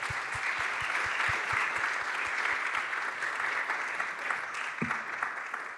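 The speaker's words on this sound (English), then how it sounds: "please give a big round of applause." Steady, moderate applause from a conference audience after a talk at a tech summit, a continuous wash of clapping with a few faint low thumps near the start and no talking.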